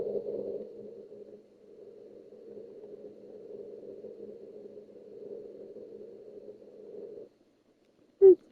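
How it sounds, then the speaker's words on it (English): A soft, low hum from the game Minecraft drones steadily for several seconds with a faint pulsing texture, a short looping sound, then cuts out before a brief sharp blip. "there's a short looping sound in that game"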